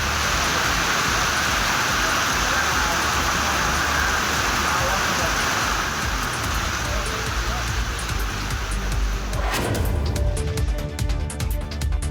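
Steady heavy rain pours in Ranipet district of Tamil Nadu, a dense continuous hiss of drops beating on surfaces, loud and close, with scattered sharper splashes and drips toward the end.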